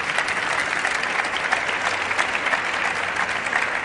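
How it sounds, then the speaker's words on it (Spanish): Dense, steady applause from a conference audience at an international education meeting, sustained evenly at moderate volume with no talk over it. "si queréis aplaudirá"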